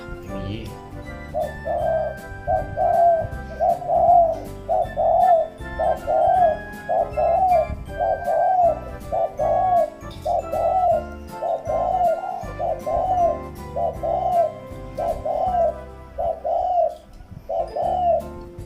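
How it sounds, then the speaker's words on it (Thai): A spotted dove coos in a steady repeating rhythm, about one call per second, with faint background noise underneath and no talking. "เสียงเจ้าบีเขาดีเนาะ"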